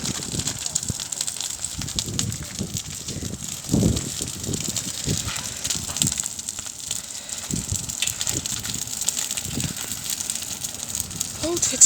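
An outdoor fire burns in a village, giving off irregular crackles and pops over a rushing roar while people talk nearby.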